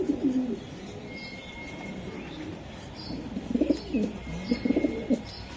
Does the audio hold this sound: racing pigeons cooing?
yes